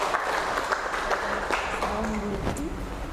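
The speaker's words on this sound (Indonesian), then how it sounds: "Oke, beri aplaus buat Mbak Mira." A classroom of students gives a short burst of applause for a classmate, dense clapping running through the whole moment at moderate loudness.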